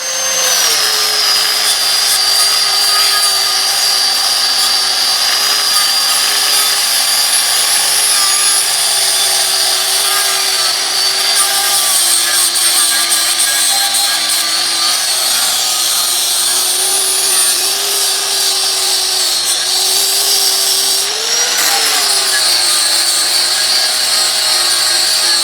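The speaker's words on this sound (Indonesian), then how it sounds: "Saya akan amplas media besi menggunakan flap disk." A 4-inch MY90B electric grinder with a flap disc whines at high speed, sanding iron with a continuous harsh rasp, loud and close, pitch wavering slightly under load.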